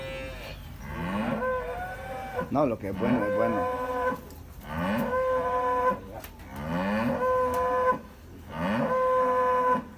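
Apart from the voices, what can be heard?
cows and bulls mooing on a dairy farm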